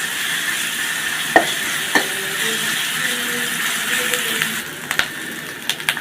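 Ginger paste sizzling and being stirred in hot oil for a rohu fish curry, a steady broad frying hiss with a few sharp clinks of a utensil against the pan.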